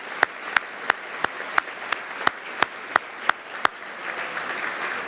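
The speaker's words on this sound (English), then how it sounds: "Let's give those young folks a round of applause." Crowd applause for a youth color guard at a county education awards event. One nearby clapper keeps a sharp, evenly spaced beat about three times a second over softer, scattered clapping from the room.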